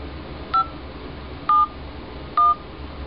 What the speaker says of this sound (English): here is the dialer pad, and we can start dialing our number